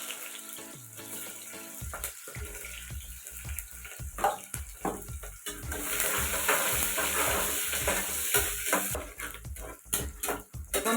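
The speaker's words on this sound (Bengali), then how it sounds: "বন্ধুরা আমি এখানে পেঁয়াজ ভাজিলাই" Onions frying in a pan with whole garam masala and cumin seeds give a steady, loud sizzle. A spoon scrapes and clatters against the pan in repeated, irregular strokes, with no voices.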